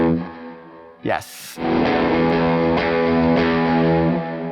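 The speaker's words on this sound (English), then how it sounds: "So our next ingredient is going into the reverb" Sustained electric guitar chords played through a reverb pedal wash out through a heavy, spacious reverb, with a brief noisy burst early on and a voice speaking a single word.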